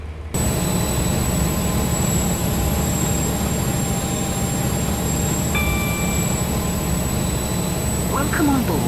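A train runs in the Roblox rail game Stepford County Railway, giving a steady, loud rumble with a constant tone and a brief chime partway through, while an onboard announcement voice speaks over it.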